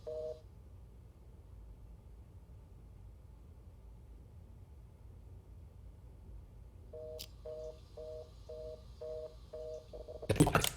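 Phone in the game Unheard dialing a number: a faint steady hiss, then a quick run of about seven evenly spaced dial tones, followed by a louder burst at the end.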